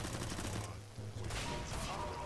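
Gunfire in Counter-Strike: Global Offensive, including an AK rifle, a loud rattling burst heard in-game with a voice talking over it.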